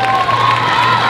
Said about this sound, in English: give these ladies a warm round of applause